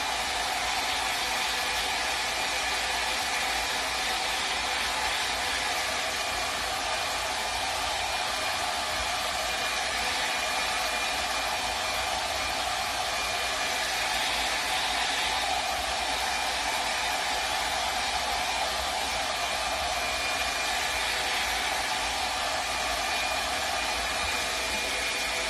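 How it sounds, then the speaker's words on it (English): A hair dryer runs continuously at close range, drying decoupage rice paper on a dollar store tray, a steady loud whooshing hiss of blown air that holds unchanged throughout with no talk. "I'm going to go back to my dryer, and I'm going to dry this again."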